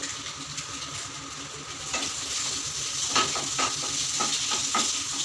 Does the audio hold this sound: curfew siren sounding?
no